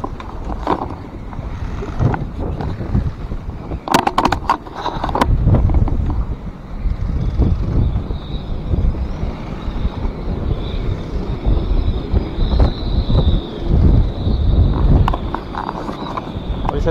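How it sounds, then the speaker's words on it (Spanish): Strong wind roars and buffets steadily around a boat during a windy day, a loud, rough, continuous rush with occasional gusting surges. "ahora está soplando ya mucho viento, pero espera mucho más"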